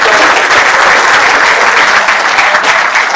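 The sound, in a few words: applause from trainees at a valediction ceremony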